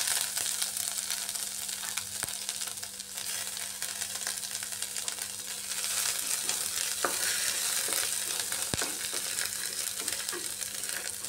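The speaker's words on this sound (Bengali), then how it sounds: "এবার এর মধ্যে গ্রেট করে রাখা আদা দিয়ে দিচ্ছি" Grated ginger fries in hot oil with a continuous, even sizzle close by, joined by occasional light clicks and scrapes from stirring.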